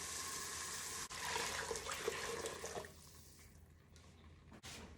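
Boiling water poured from a height into a soup pot, a steady splashing gush for about three seconds that tapers off into faint trickles.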